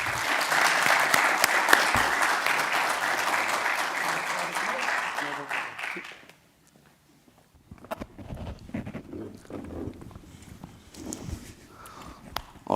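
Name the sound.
audience applause for Nikolas Ferreira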